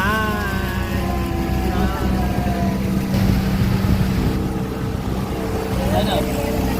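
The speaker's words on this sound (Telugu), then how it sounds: "వెనకాల బండ్లు వస్తున్నాయి." Steady engine drone of passing vehicles, a continuous low rumble throughout, with a voice speaking over it near the start.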